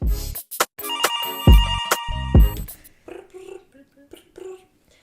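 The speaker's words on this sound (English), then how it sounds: "Phone is ringing." A telephone bell rings loudly in several bursts over the first three seconds, then gives way to quieter voices talking.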